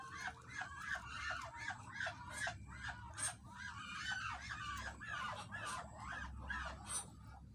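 Muscovy ducks calling in a pen on a livestock farm, a steady stream of overlapping raspy honks and clucks, fairly close and continuous over a low background rumble.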